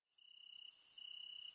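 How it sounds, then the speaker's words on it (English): Steady high-pitched cricket chirping in the game Hello Neighbor fills the scene, a continuous shrill trill with a second tone pulsing in and out, no voices. "I don't like these crickets."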